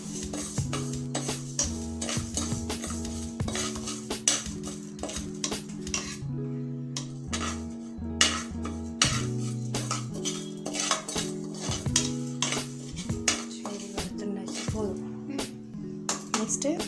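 A spoon clinks and scrapes steadily against a pan while ingredients are stirred and roasted for cabbage kootu, with music playing underneath.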